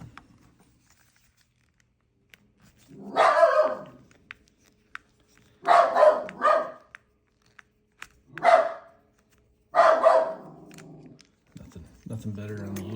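A dog goes crazy barking at someone walking past, four loud bursts of barks spaced a couple of seconds apart, close and alone, followed by a brief voice.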